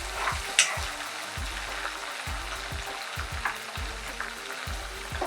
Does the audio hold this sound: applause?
no